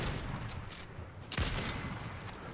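Gunfire in the video game Fortnite: a single loud, sharp shot bursts out midway, set against a steady background of game ambience and faint noise.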